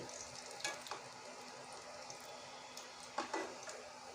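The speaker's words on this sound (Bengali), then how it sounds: "আমি সোয়াবিন ভুট্টাগুলো লাল লাল করে ভেজে নিচ্ছি" Soybean chunks fry in a pan, a faint steady sizzle with a few soft stirring scrapes and clinks rising above it now and then.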